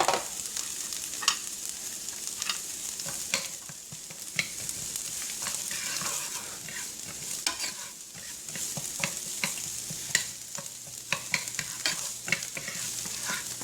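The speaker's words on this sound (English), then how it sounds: "So I'm going to go ahead and throw in my onions." Onions sizzle steadily in a hot frying pan while being stirred, with frequent clicks and scrapes of the utensil against the pan throughout.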